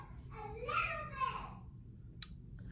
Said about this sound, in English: I'm sorry if you can hear my family in the background